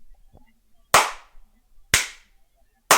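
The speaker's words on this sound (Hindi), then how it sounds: "ताली बजाना" Three sharp hand claps land about a second apart, each crisp and close, with quiet gaps between them.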